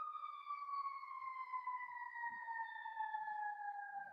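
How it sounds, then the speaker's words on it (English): Ambulance siren on a Los Angeles street, a steady wailing tone gliding slowly downward in pitch as it passes, loud and sustained throughout with faint background noise. "This ambulance is really loud."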